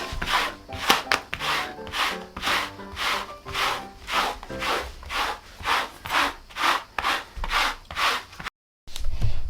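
A small brush scrubs a carpet in quick, regular back-and-forth strokes, about fourteen close rasping swishes with a brief pause near the end.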